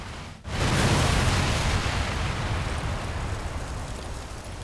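A large supply of burning explosive powder blows up in the Great Butte Explosion: a sudden violent blast that swells into a sustained, heavy roaring rumble, loud and continuous throughout.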